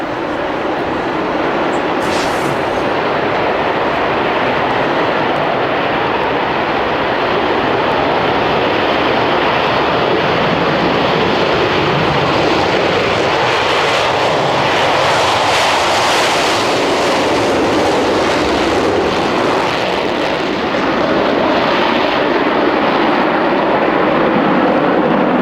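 Concorde supersonic jet airliner departing Heathrow Airport under murky skies, a loud, steady, broadband engine roar that fills the scene continuously without any talk.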